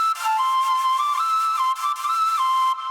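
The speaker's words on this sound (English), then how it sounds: "And then I have the flute, which is called Celestial, playing a really cool melody." A breathy, whistle-like synth flute preset called Celestial from the Colour Forge library plays a flowing melody of gliding notes with mod wheel automation. It sounds bright and continuous, with no talking over it.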